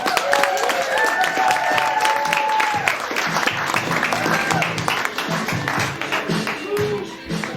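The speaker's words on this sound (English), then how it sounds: "we're going to shout, get back down here, and just clap and cheer" An improv audience breaks into loud clapping and cheering, with whoops and shouting voices over sustained applause that stays steady throughout.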